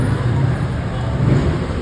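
A car driving steadily along a clear road through Chinatown, heard from inside as a continuous low engine and road rumble with no passing traffic.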